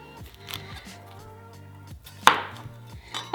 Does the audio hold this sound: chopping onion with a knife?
yes